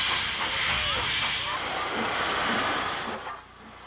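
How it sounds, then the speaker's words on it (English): An old steam locomotive lets off loud, continuous hissing steam up close, a bright roar that holds steady and then drops away near the end, with no talk over it. "We've brought back our old steam locomotive."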